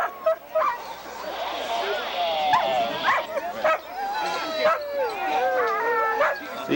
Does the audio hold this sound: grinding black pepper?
no